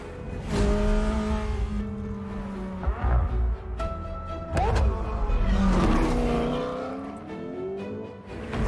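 McLaren Senna supercar driven in the Forza Horizon 4 video game, its engine revving and shifting through gears with rising and falling pitch, plus brief tyre noise, moderately loud and steady throughout.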